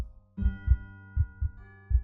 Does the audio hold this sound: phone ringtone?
no